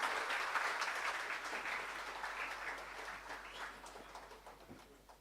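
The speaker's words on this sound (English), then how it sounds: "Audience, please give a huge round of applause." An audience at a college pharmacy conference claps steadily, a broad wash of applause that starts strong and gradually fades, with no speech over it.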